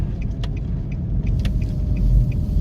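Car driving along Red Hills Road with a steady low engine and road rumble filling the cabin, fairly loud and constant, with a few faint clicks and ticks on top and no speech.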